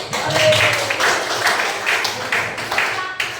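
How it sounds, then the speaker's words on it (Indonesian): Classroom students clap for quiz winners, a brief spell of scattered applause that is moderately loud and fairly close, tapering toward the end. "Berikan tepuk tangan dulu."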